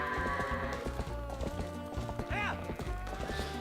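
Goats being rounded up into a barn in Ordon Village in The Legend of Zelda: Twilight Princess HD, with steady clip-clopping hooves and a short bleat over continuous game music.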